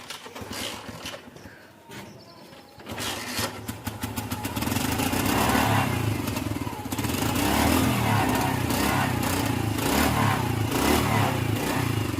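A motorcycle engine sits quiet at first, then cranks and catches with a sharp burst of rapid firing, settling into a steady, close idle that runs loudly to the end.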